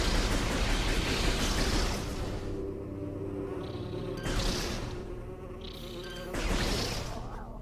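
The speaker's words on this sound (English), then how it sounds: "Take out a horde of wasps." Loud, continuous war wasp buzzing swarms close by in Metroid Prime Remastered, with droning bursts that swell and fade over a low rumbling background.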